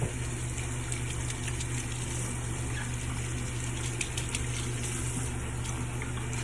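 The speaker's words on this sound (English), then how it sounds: "So you're gonna wash it off in lukewarm water." Lukewarm tap water runs steadily at a sink for rinsing, a continuous close gushing hiss with faint splashes and no speech.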